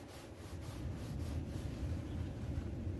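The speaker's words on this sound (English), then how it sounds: "You can rub pretty liberally on it at first until you start seeing white paint underneath." A sponge rubbing transferred paint off a white house-painted surface, producing a steady broad scrubbing wash with faint rhythmic strokes, close and continuous, with no talking.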